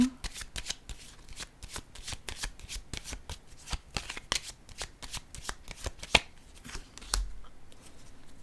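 Tarot cards are shuffled, laid down and turned over, giving a close run of crisp flicks and slaps, irregular in timing with a few sharper snaps.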